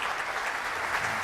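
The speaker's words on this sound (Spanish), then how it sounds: "Pido para él un fuerte aplauso" Steady applause from an audience at a talk with Cardinal Ezzati, a continuous wash of many hands clapping at an even, moderate level throughout the short stretch, with no voices over it.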